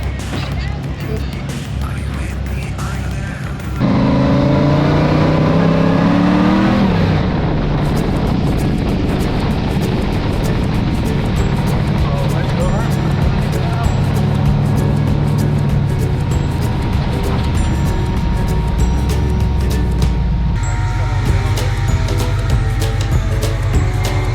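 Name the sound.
off-road rock crawler engine backing off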